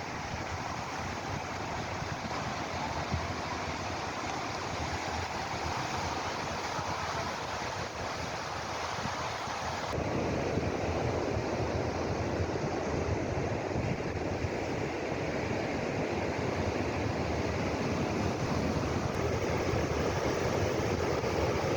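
Steady roar of ocean surf washing onto Molang Beach, continuous and fairly loud, with wind noise on the microphone and no voices.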